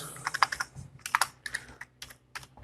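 Quick, uneven keystrokes on a computer keyboard as a name is entered into a Facebook name-change form, with close clicky taps in short bursts and brief pauses and no talking.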